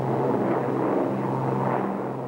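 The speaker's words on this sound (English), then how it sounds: "the only sound that reached the crew members was the reassuring drone of the Merlin engines" Steady, rhythmic drone of Rolls-Royce Merlin aircraft engines on a bomber in flight, a continuous loud hum with a low tonal throb filling the whole stretch, with no voices.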